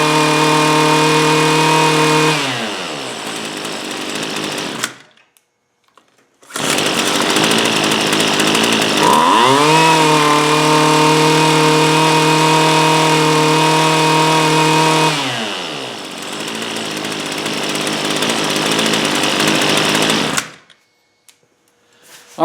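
A worn, weathered Husqvarna string trimmer engine runs loud and close, revving up and settling back to idle, cutting out briefly, then restarting for a long high-revving stretch before dying away again.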